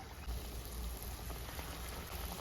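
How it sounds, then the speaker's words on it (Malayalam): Unnakkaya, Kerala-style stuffed plantain dumplings, sizzling steadily in hot oil, a dense continuous crackle and bubble held at an even level throughout, with no talking. "നമുക്ക് ഓരോ ഉന്നക്കായും അതിനകത്തോട്ടിട്ട് വറുത്തെടുക്കാം"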